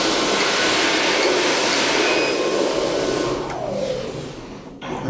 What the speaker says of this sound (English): It's a ThyssenKrupp elevator.